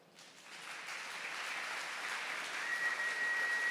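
A church audience breaks into applause at a sermon, the clapping swelling from quiet to a sustained, even wash of many hands that sounds somewhat distant.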